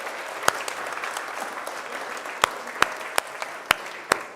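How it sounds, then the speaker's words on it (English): An audience applauds Reverend Andy at a Passover Seder, giving steady, moderately loud clapping throughout with several sharp, distinct claps standing out near the listener. "give a round of applause to Reverend Andy"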